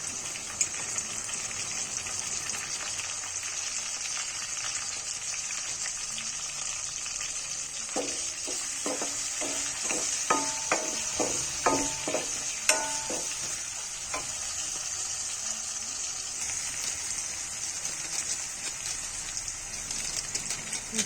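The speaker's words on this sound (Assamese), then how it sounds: "এতিয়া সেইখিনি তেলত আদা নহৰুখিনি দি দিম। আদা নহৰুখিনি দি অকণমান ভাজি তাত মছলাখিনি দি ল'ব লাগিব।" Ginger and garlic paste sizzles in hot oil with a steady crackling hiss, joined midway by a run of sharp spatula taps and scrapes as it is stirred.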